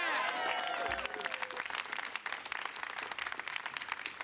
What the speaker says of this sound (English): Y'all can clap to that.